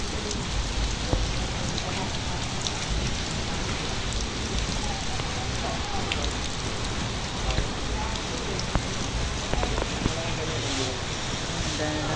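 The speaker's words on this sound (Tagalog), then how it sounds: "Ayan, sitwasyon kay Diwata kapag ulan" Steady heavy rain pattering on a roof over a food stall, a dense continuous hiss of drops with faint background sounds.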